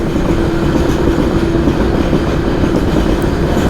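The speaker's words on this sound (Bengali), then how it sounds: "দেখো নিচ দিয়ে ও ট্রেন যাচ্ছে" A goods train rolls past below the viewpoint, a steady continuous rumble of wagons with faint rhythmic clatter, loud and unbroken throughout with no talking.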